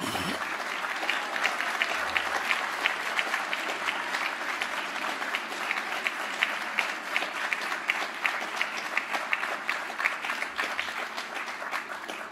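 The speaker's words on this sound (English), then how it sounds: "give those families a well-deserved round of applause" Graduates at a university faculty conferring ceremony applaud their families, producing sustained, dense clapping from a large indoor crowd that holds steady and even for the whole stretch.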